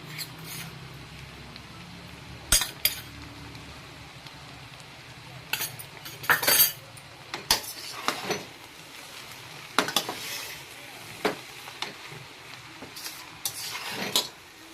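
Vegetable fried rice being stirred and mixed in a pan, with intermittent sharp scrapes and clacks of a utensil against the pan over a quiet background, irregularly spaced and fairly close.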